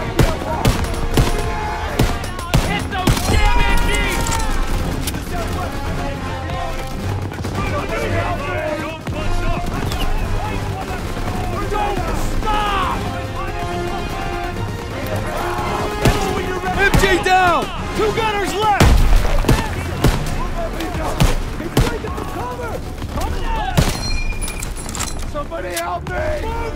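In Call of Duty WWII gameplay, machine guns fire in loud, rapid bursts beside scattered gunshots and battle clatter, while soldiers shout over the fighting.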